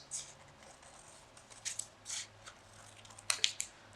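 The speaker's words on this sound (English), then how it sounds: "you're going to take your scissors again, and you're going to cut on the first one, you're going to cut just 1 petal out" Scissors snip through a paper flower petal in a few short, crisp cuts spread across a quiet moment, close and fairly soft, with no talking over them.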